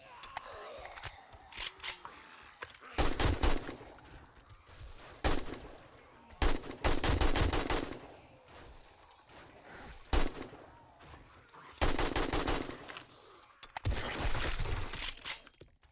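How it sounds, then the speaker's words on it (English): Semi-automatic gunfire in the video game 7 Days to Die, several separate loud bursts of sharp, cracking shots spaced a few seconds apart, with quieter gaps between them. "Little semi-auto fire there."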